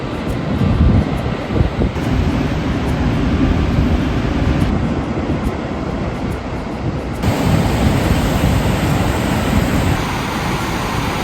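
A waterfall at a hydroelectric dam roars in a loud, continuous rush of falling water, broadband and steady throughout with gusty wind noise on the microphone.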